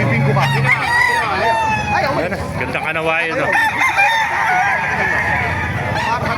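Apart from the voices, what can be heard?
roosters crowing at a market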